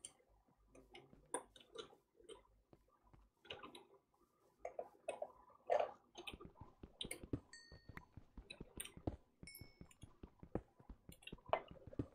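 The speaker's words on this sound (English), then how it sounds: "can hear your frantic clicking" Quick, irregular mouse clicks come in bursts while Minecraft is being played, sharp ticking taps that grow busier and more frantic toward the end, close and fairly quiet.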